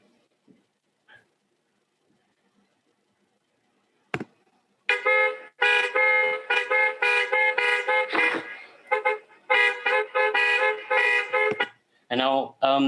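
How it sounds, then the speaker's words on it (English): Car horns play from a recording in bursts of repeated honks and toots, loud and close after a few seconds of near silence, with a brief word spoken just before. "played a video, a sound recording of car horns"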